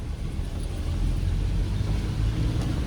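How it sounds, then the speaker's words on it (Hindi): A car engine rumbles steadily from inside the cabin while driving in city traffic, a low continuous drone that swells slightly as the driver accelerates and shifts into third gear. "अब मैंने यहाँ पे हल्का सा एक्सीलेटर लेके 3rd गियर डाल दिया"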